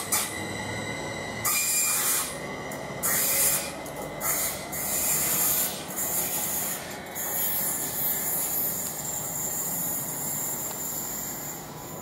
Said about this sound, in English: Now the 11:51 Greater Anglia train to London Liverpool Street is just now departing.